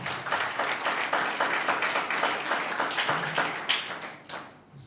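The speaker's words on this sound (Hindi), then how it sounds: "प्रभु के लिए जोरदार ताली बजाइए" A church congregation claps loudly and steadily in praise during a Hindi sermon, dense applause with rhythmic beats running throughout before fading at the end.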